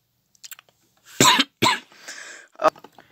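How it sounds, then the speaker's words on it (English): Several harsh coughs in quick succession, loud and close, with a short pause before a final sharp cough; no talking. "had a coughing fit there"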